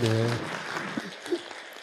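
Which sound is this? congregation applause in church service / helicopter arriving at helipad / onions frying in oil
congregation applause in church service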